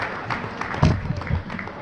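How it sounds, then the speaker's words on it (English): A packed gala audience at a charity twilight dinner breaks into applause, a crowd of hands clapping in a room alongside a talking voice. "Give yourselves a round of applause."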